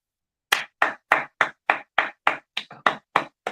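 Eleven loud, close handclaps in a steady rhythm, slightly uneven near the end, from a single person applauding on a morning radio show, with no talk over them.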